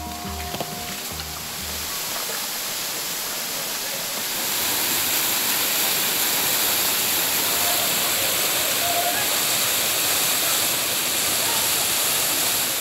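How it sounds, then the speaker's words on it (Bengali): Suptodhara waterfall at Sitakunda gives a steady, loud roar of falling water that swells after a few seconds and continues evenly throughout. "কিছুটা এগিয়ে যেতেই চোখে পড়ে সুপ্তধারা ঝর্ণার।"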